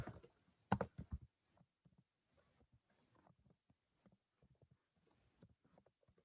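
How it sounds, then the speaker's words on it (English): A computer keyboard is typed on during a Zoom math lesson, with a quick cluster of louder keystrokes at the start followed by faint, scattered, irregular taps. "Typing's hard today."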